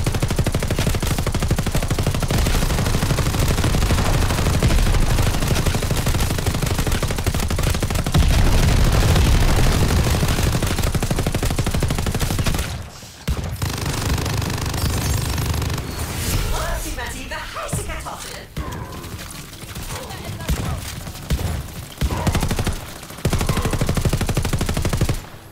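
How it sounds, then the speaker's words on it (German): Submachine guns fire in the Call of Duty video game on PlayStation 5, long dense bursts of rapid gunfire that are loud and close, broken by brief pauses, with voices speaking over parts of it. "Maschinenpistolen haben ordentlich Wumms für ihre Größe."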